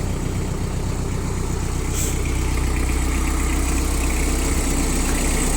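A Mitsubishi MT367 tractor engine idles steadily nearby, a continuous low rumbling drone with even vibration throughout.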